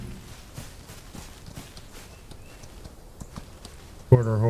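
Quarter horse hooves in the Old West video game Outlaws of the Old West, a soft, regular clip-clop of walking steps, faint and close, before a sudden louder burst at the end.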